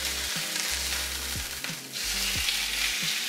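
Steak sizzles in a pan with butter, a constant bright frying hiss and crackle close up, with occasional low knocks and clatter from the pan underneath, no speech.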